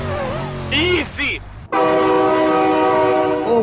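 Loud sustained train horn in BeamNG Drive, preceded by a frantic shouting voice, then the horn holds steady and close as a train bears down.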